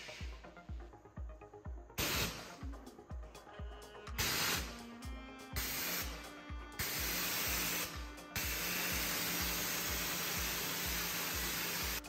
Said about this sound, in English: Whether you need a focused jet for tough spots or a wider spray for larger areas